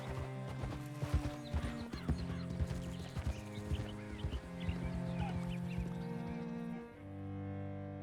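Horse hooves clip-clop in Red Dead Redemption 2 over steady in-game music, with a whinny rising partway through, moderately loud and close.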